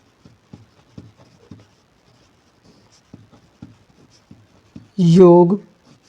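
Heading being written on a board, a series of soft rhythmic tapping strokes close by, followed near the end by a short burst of a speaking voice.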